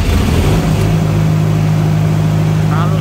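A 25 kVA heavy-duty silent generator runs with a loud, steady low engine hum that stays even throughout, with a voice faintly present.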